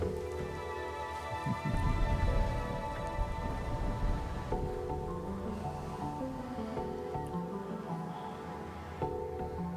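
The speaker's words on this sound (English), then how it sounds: "The hills are alive with the sound of raining." Steady rain pours in the video game The Darkside Detective, a dense hiss that swells briefly near the start. It is heard alone under sustained musical tones and a low rumble, with no voices.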